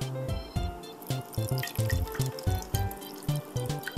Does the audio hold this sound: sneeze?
no